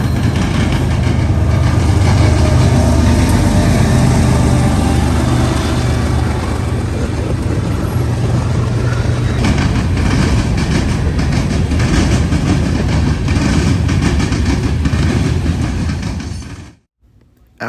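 A freight manifest train rolls past on the rails in Marion, Ohio, a loud, steady rumble of railcars with rhythmic wheel clatter over about sixteen seconds, then cuts off abruptly.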